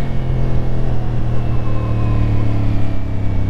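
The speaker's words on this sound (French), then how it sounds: "On va voir s'il y a du frein moteur." CFMOTO 450CL-C motorcycle engine braking with the throttle fully released, a steady loud mid-pitched engine drone with a fluttering exhaust note, heard close and uninterrupted with no voices.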